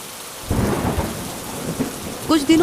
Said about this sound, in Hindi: गांव में मूसलाधार बारिश शुरू हो गई